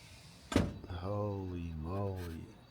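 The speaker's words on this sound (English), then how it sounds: "Let me see if I can open the door to the balcony." A balcony door at a Queenstown, New Zealand stay being opened: a sharp click followed by a sustained sliding rumble, close and fairly quiet, with no talk over it.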